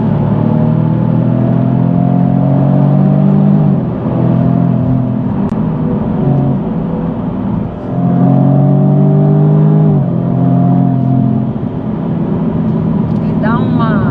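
A 2021 Jaguar F-Type convertible revs its engine, helped by artificial sound piped through speakers. A loud, steady growl swells twice into rising revs and then settles back, close and continuous throughout.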